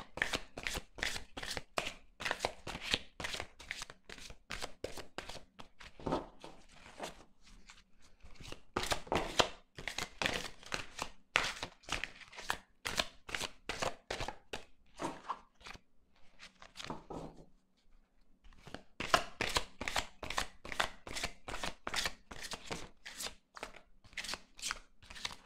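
A tarot card deck shuffled and cut by hand at close range, long runs of rapid riffling flutters and card slaps in steady bursts, with brief pauses between rounds.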